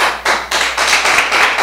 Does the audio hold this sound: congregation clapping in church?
yes